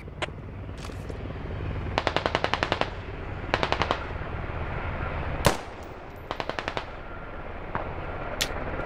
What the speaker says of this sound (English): I'm taking fire from west.